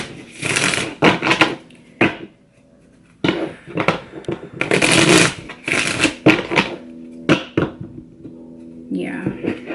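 Tarot cards being shuffled in repeated brisk riffling bursts with short pauses between, close and fairly loud, with no talk over them.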